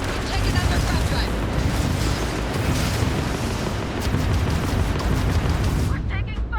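Spaceship weapons fire during space combat in the Starfield video game: a dense, loud, continuous barrage of booming blasts and crackling bursts filling the whole stretch, with a voice faintly present underneath.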